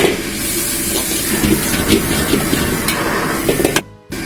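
Cauliflower stir-fried slowly in a wok with hangjiao peppers and bird's eye chilies for dry-pot cauliflower, a steady hissing sizzle with scattered clinks, running loud and continuous before briefly cutting out near the end.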